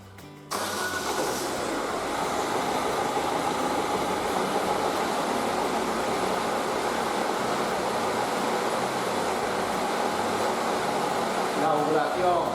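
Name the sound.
car engine starting and running for alternator test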